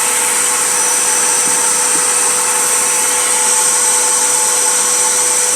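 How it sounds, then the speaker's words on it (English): Shop vacuum running steadily to pull chaff away from zinnia seeds during seed cleaning, a loud, constant whine with no pauses throughout. "I hope you'll be able to hear me with the vacuum going"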